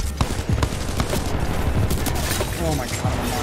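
Rapid, continuous L-Star fire from the Titanfall 2 video game, a loud, dense stream of energy shots with clattering effects throughout.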